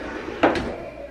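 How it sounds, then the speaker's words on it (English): A closet door in a Florida vacation house is pulled open with a short clack and a quick second click, close by, over a steady low room hum. "You open this door."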